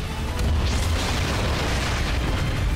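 A single deep boom from an ion cannon in the video game Ratchet & Clank erupts and rolls into a sustained rumbling blast that fills the whole moment, loud and close.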